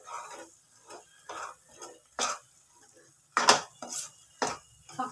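A spoon stirs a thick cashew curry masala in a pan, producing a rhythmic series of scrapes and several sharp metallic clinks against the pan, up close and with no talking.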